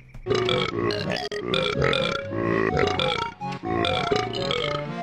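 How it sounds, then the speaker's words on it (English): Captain Blubber, a character in the Banjo-Kazooie video game, talks in a string of loud, croaky burps, several long belches in a row with short breaks between them. "my favorite is Captain Blubber, who speaks in burps"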